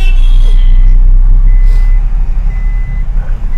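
A learner driver's car engine revs hard, a loud low rumble holding steady before easing and fluctuating, with faint high electronic beeps sounding intermittently over it.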